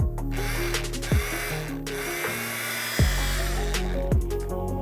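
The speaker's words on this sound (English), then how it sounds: "pop the lid on, and we're just going to blend this until it kind of resembles wet sand" A kitchen blender whirs steadily and loudly as it pulses a seasoned mixture with freshly cracked pepper into a wet-sand texture, the motor pitch dipping and surging several times with no talk.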